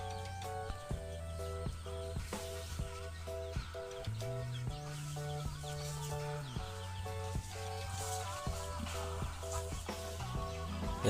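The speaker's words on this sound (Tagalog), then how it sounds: "Yan, mga ibon yan." Birds chirp and call at a rural farm in the Philippine countryside, with chickens among them. The calls come at a moderate distance over a steady, tonal background hum, with scattered sharp clicks and no talk.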